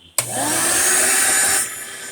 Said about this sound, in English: we're going to turn on the vacuum